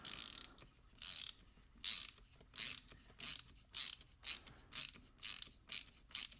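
A WITTE RatchDrive 1/4 inch pocket ratchet turned clockwise makes close, quiet bursts of rapid pawl clicking, about a dozen evenly spaced strokes, each separated by a brief silent return.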